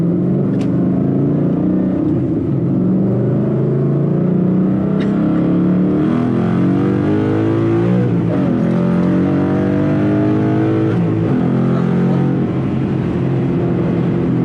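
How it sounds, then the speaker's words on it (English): A 500hp naturally aspirated Mustang 5.0 V8 pulling hard on a freeway, a loud, dense engine roar that climbs and shifts in pitch through the run, heard from inside the car with no talk. "Yeah, well, I'm gunning it."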